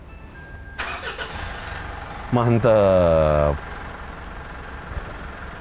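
A Mitsubishi Pajero is started with a push button after the remote key battery died: the starter cranks briefly and the engine catches into a steady idle that settles back down, with a short spoken word nearby.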